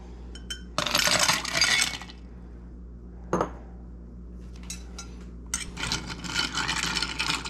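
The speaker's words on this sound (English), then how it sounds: "we're going to stir that up with some ice" Ice clinking and rattling against a glass as a La Florida cocktail is stirred, with bursts of bright, jangling ice noise alternating with brief pauses, close and clear.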